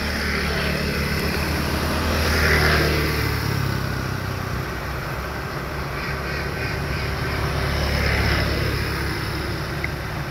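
Dense road traffic at the Cileunyi interchange in Indonesia, mostly motorcycles, makes a steady broadband roar that swells as vehicles pass near, with no voices.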